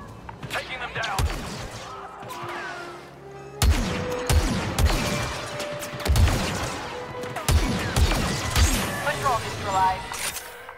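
Blaster fire in the Star Wars Battlefront II video game during the Battle of Endor, with repeated sharp bursts of shots amid battle noise and game voices talking over the action.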